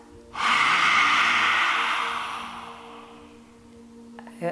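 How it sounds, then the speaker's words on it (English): One long, forceful exhale through an open mouth during a throat chakra breathing exercise, a loud close breathy rush that starts abruptly and slowly fades over about three seconds. "And open everything and breathe it out."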